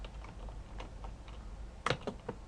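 Commands for a Cisco network switch are typed on a computer keyboard, a few light scattered keystrokes followed by a quick louder burst of clacks near the end.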